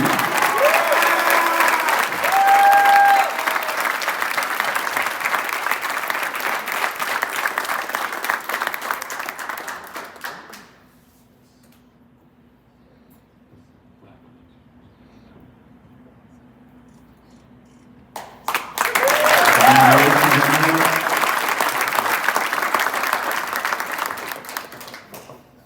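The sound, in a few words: applause for a signing day honoree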